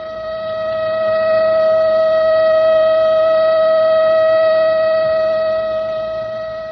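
A steady, high-pitched electronic siren tone holding one unwavering pitch, swelling in slowly and fading slightly at the end.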